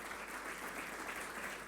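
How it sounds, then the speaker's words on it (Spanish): Brief, dense applause from a church congregation during a communion service, a continuous wash of many hands clapping at moderate distance with no talking. "Le damos un aplauso al Señor."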